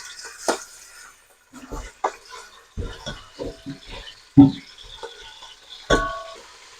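Boneless chicken cubes for chicken pulao go into a hot pan, giving short clattering bursts and scraping of pan and utensil over a low, steady sizzle, with quieter gaps between the louder knocks.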